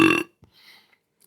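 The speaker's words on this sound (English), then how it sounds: "Good burp." A single loud, close burp from someone drinking beer, short and abrupt, followed by near silence with faint small sounds.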